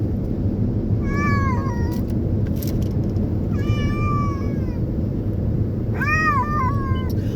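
A black cat traveling in a car meows three times, each a clear, drawn-out, rising-and-falling cry, the last one loudest, over a steady low road rumble.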